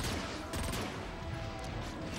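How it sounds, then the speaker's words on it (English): Gunfire from a sniper weapon in the Transformers Fall of Cybertron video game, a loud dense burst of shots and blasts filling the brief moment with heavy game noise. "It's like a sniper gun."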